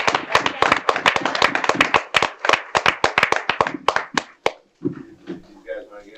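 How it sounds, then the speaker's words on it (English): Audience at a school committee meeting breaks into a round of clapping, loud, close and fairly sparse with distinct individual claps, thinning out after about four seconds as murmuring voices and talk take over. "And so I have a round of applause."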